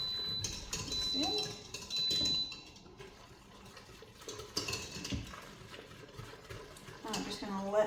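A spoon stirs ingredients into soup inside an Instant Pot, producing intermittent scraping and clinking against the metal pot with a soft liquid slosh, while a person talks over parts of it.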